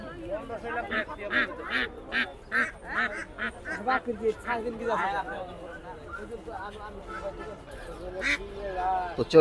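Ducks quack repeatedly at Hemayetpur livestock market in Bangladesh, a busy run of short calls close by, with people talking throughout and market bustle underneath.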